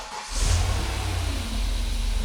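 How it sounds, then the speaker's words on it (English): Classic V8 engine catching and revving up close, a loud rough roar that swells and holds with slight unevenness as it hesitates, no voices over it. "I'll give it a few little revs and then we'll probably hear it hesitate ever so slightly"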